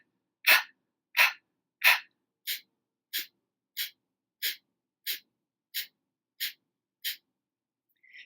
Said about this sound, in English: Just open your mouth and begin panting like a dog.